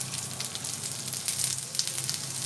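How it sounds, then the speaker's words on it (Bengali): Potatoes frying lightly in hot oil in a pan while cooking a Bengali pointed-gourd dish, a steady close sizzle with soft crackles throughout and no talk. "আলুটা একটু হালকা করে ভাজবো।"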